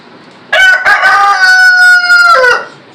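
A rooster crows once indoors, a single loud, drawn-out harmonic call of about two seconds that rises sharply and trails off, with no talking over it.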